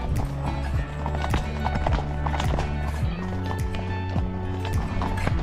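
A horse named Rusty walking up through the Burren in County Clare, Ireland, hooves clip-clopping in a steady, close rhythm with a few faint voices in the background.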